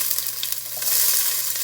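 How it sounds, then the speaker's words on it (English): Sweet onions sizzle in already-hot cooking oil over a high flame, a steady close frying hiss that swells slightly and carries on without pause or voices. "I'm going to put the onion first. Sweet onions. The oil, the cooking oil is already hot."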